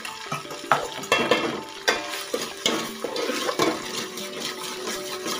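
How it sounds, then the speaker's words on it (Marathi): Coconut paste masala stirred in a pan for homemade chicken biryani, with a spoon scraping and clinking in irregular strokes over a faint background sizzle, close and moderately loud. "चांगलं हलवून घ्यायचं."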